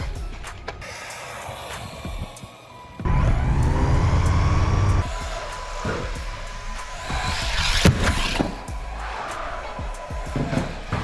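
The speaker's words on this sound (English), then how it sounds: "It's Arrma's Typhon Grom, small scale 4-wheel drive, ready to run buggy." A small-scale Arrma Typhon Grom 4WD ready-to-run RC buggy drives outdoors, its high whining motor rising and falling with throttle, with a loud surge partway through and scattered ground noise over a steady background.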